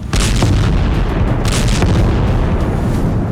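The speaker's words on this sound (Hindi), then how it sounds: "केमिकल अटैक के आरोपों के बीच देर अल बलहा इलाके में इजरायल ने बीती रात फास्फोरस बम दागे।" Phosphorus bombs striking Deir al-Balah in Gaza at night produce heavy, loud booms over a continuous roaring rumble, with a couple of sharper blasts standing out, and no voices.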